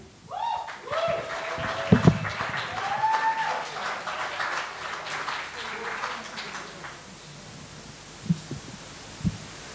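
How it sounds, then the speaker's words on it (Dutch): Warm applause for a poet at a Poetry Circle reading at the Eendrachtsfestival in Rotterdam, with steady clapping and a few whistle-like cheers that fade out after several seconds, followed by a couple of faint knocks. "Een warm applaus voor Emmy."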